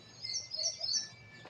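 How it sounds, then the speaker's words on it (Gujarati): Sparrows chirp from village trees in a quiet rural morning, a run of bright, thin repeated calls through the clip over faint low background noise, with no talking. "કેવા સરસ મજાના ચકલા પણ બોલે છે ઝાડવામાં"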